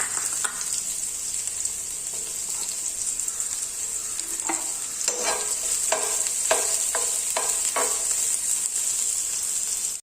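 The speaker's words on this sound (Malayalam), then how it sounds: "അതിലേക്ക് ഇട്ടൊന്ന് നമുക്ക് വഴറ്റിയെടുക്കാം" Sliced small onions sizzle in ghee in a pan, a steady high frying hiss throughout with scattered stirring clicks and scrapes, close and alone.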